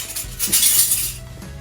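Medium-size metal spoons clinking together as they are handled, a short bright jangle of cutlery with a couple of soft knocks, close and clear.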